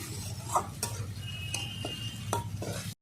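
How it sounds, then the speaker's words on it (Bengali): Spices sauté in a generous amount of mustard oil while a spoon stirs and scrapes the pan, giving light clinks and taps over a low, soft sizzle, close up and without speech. "ভালো করে আমি কষিয়ে নিচ্ছি একসঙ্গে মশলা তেলটা একটু আমি আজকে বেশি দিয়েছি সর্ষের তেলে করছি"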